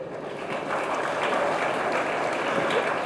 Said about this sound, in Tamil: அதுக்கும் கைத்தட்டு